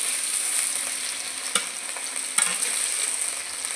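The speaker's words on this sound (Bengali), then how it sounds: "হালকা একটু ভেজে নেবো আলুগুলো" Potato pieces sizzle lightly in oil in a pan while being cooked for a hilsa fish and Malabar spinach dish. The frying is steady and close, with a couple of soft stirring knocks and no talk.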